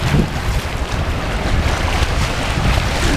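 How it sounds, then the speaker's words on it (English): Strong, cold wind buffets and roars across the microphone in continuous gusts on a narrow breakwater pier on Lake Michigan at Manitowoc, Wisconsin, with a low rumble of water underneath. "It's windy and cold, but at least the waves aren't splashing us."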